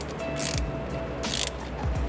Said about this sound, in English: This will be a 13mm socket.